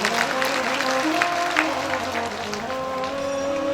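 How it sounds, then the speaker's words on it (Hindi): An audience at a religious storytelling gathering clapping together, a dense, steady round of applause heard from nearby with some background tones from a sound system. "एक बार फोटो के लिए फिर से तालियां बजा रहे।"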